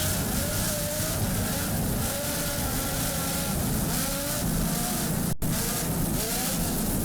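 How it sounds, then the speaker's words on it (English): An offshore racing powerboat with twin 920-horsepower Lamborghini engines roars past at the Miami Offshore Grand Prix, a dense, sustained, loud engine drone with wind and water noise and no talk. "Just listen to those Lamborghini power plants."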